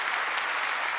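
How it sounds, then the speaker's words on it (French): Audience applause at the opening of a French charity fundraising livestream, a dense, steady wash of clapping lasting about a second with no voices over it. "on peut applaudir ça, je pense"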